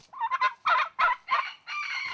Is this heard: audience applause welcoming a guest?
no